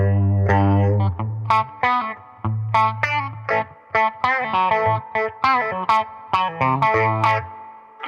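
Electric guitar played through a Warm Audio Mutation Phasor II with the feedback turned down, a swirling phased tone over a sustained low note giving way to a run of plucked, ringing notes and chords, loud and close, no voices.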